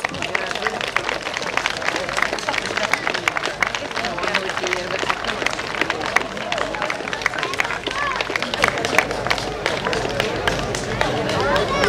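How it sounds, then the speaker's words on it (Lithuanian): Applause for women named Ona at a name-day celebration in Vėžaičiai: dense, steady clapping from a crowd, loud and continuous throughout, with murmured voices mixed in. "Garsus plojimai mūsų onoms."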